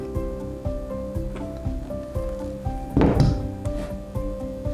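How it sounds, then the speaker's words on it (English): A 10-inch drywall flat box presses mud along a flat joint, giving repeated low scraping and rolling rubs with faint clicks and a heavier clunk near the middle as the box brakes and lifts off the wall. "As you press, it coats out the flat, and when you come to an end of a wall, brake, lift off."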